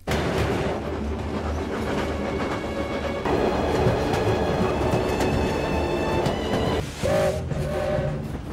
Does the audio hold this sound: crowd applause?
no